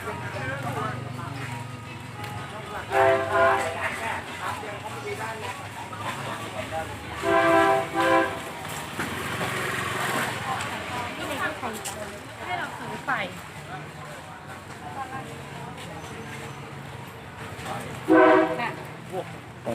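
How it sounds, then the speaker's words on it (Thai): A train draws near the Bridge over the River Kwai in Kanchanaburi, Thailand, with rumbling and repeated horn-like blasts, while people talk nearby. "รถไฟกำลังมา"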